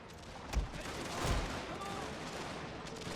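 Musket and cannon fire in a battle video game: two heavy, booming reports land about a second apart, with scattered rattling gunfire in the background and a voice talking over it.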